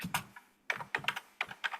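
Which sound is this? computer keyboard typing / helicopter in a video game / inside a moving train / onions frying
computer keyboard typing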